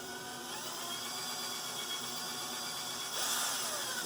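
Power drill drives a screw into a 3D printed Baby Yoda arm, a steady whining motor whir held throughout that rises slightly in pitch and loudness near the end, heard up close with no talking.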